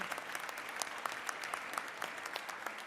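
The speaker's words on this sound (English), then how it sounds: "please give them a round of applause" A round of applause rings through the Georgia House chamber at the Capitol for visiting young agriculture leaders, a steady dense patter of clapping heard at a moderate distance.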